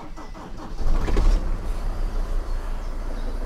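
A Mercedes 310d van with a 2.9 diesel engine, left parked in a hedgerow for 13 months, cranks and catches, settling into a steady, loud, rumbling idle close by.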